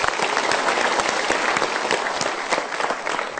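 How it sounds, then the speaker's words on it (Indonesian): An audience at a motivational talk show gives a burst of dense, steady applause, many hands clapping at once for the full few seconds with no talking. "Kita berikan tepuk tangan dulu."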